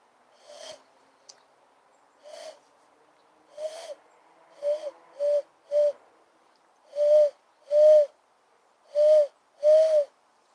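A person imitates an owl with a series of about ten short, hollow hoots, spaced irregularly at first and then coming louder and steadier in pairs, with no other sound around them.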